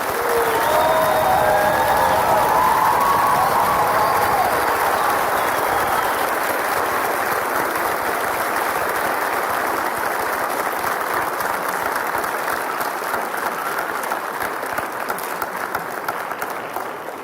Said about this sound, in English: Let's have one more big round of applause for all the graduates.